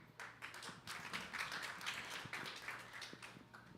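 Audience applause at a mayoral candidate forum, a steady run of many hands clapping at moderate distance that holds for several seconds.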